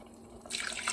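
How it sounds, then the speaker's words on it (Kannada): Water is poured into a cooking pot for veg pulao: faint dripping at first, then a steady splashing pour that grows louder and fills the second half. "ನೀರು ಹಾಕ್ಕೊಳ್ತೀನಿ."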